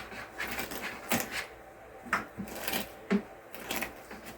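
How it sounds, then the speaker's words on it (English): A potato masher presses food scraps and eggshells down into a bokashi compost bucket, making roughly once-per-second crunching thumps and crackles in a steady rhythm, close and fairly loud, with no voices. "I use a potato masher to simply push them down and compress them"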